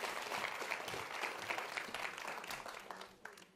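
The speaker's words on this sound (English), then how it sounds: "Please give a round of applause." An audience at an evening community event breaks into sustained applause for Blanca Torres, a dense wash of clapping that carries on for several seconds before gradually thinning out.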